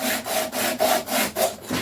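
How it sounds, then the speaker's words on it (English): Sanding wood by hand with a homemade sander and fine sandpaper: rhythmic back-and-forth scraping strokes, about six even passes with brief pauses between, close and clear with no talking. "So that's a really easy way of making a little sander that works really well."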